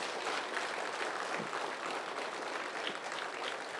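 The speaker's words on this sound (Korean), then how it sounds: "우리 하나님께 감사 영광의 박수" A church congregation gives steady, dense applause during a Sunday sermon, a continuous wash of many hands clapping at even loudness throughout, with no speech over it.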